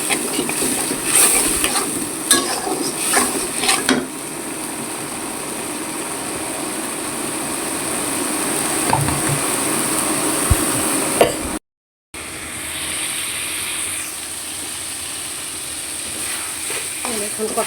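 Fish curry with spices sizzles and is stirred in a pan until the oil separates, with a steady frying hiss, occasional utensil clatter and a brief dropout partway through. Background noise and voice sounds are mixed in.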